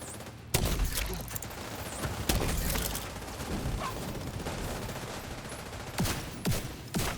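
Gunfire as the player shoots in a video game, a dense run of loud sharp shots with several strong cracks at irregular intervals over constant noisy action.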